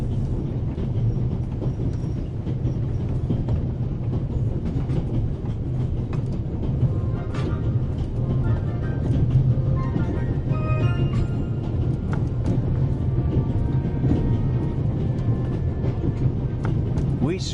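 Steady train-ride rumble inside a railway car in the game Raven Remastered, a continuous low rolling drone with faint clicks and rattles, while someone talks throughout.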